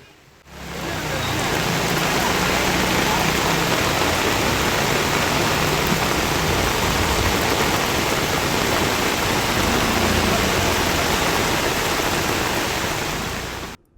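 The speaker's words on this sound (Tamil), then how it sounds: "ஒரு மணி நேரத்திற்கு மேலாக மழை பெய்ததால் சாலைகளில் மழைநீர் பெருக்கெடுத்து ஓடியது." Heavy rain pours steadily onto roads, a loud, dense and unbroken hiss that swells in after the first second and cuts off at the end.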